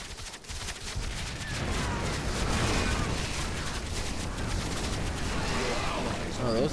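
Cannons in StarCraft 2 fire in a dense, continuous barrage of booming blasts and crackling impacts, a steady battle din with no clear gaps.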